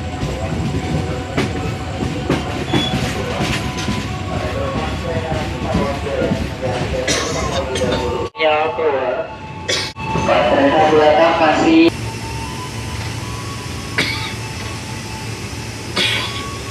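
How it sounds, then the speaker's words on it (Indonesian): The Tawang Jaya passenger train from Semarang to Jakarta Pasar Senen rumbles along the rails with rhythmic clatter, loud and close, its tone shifting midway as the carriage sound changes. "kereta api Tawang Jaya ini akan meneruskan perjalanannya hingga tujuan akhir"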